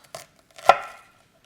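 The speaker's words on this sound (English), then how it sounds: "So I'm just gonna make some slices." A knife cutting slices from an onion on a cutting board: two crisp close chops, the second louder, in otherwise quiet surroundings.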